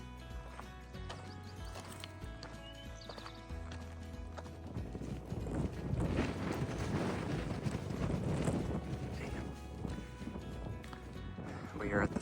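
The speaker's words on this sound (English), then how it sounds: "boy is it windy" Strong wind roars and buffets the microphone in a steady, heavy rush on the summit of Max Patch, swelling louder midway, with faint low rumbling underneath.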